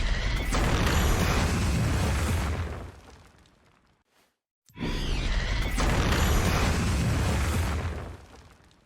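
Booming fire-breathing blasts from Smolder's dragon mother in League of Legends, two loud roaring bursts of flame separated by a short silent gap, each swelling and fading.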